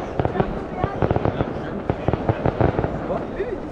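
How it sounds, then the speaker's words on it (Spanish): Fireworks and firecrackers bang repeatedly in an irregular burst at Port Aventura, fairly distant behind the listener, sharp pops over a steady outdoor crowd murmur with voices present. "ya se oyen los petardos, los fuegos artificiales ya se están oyendo"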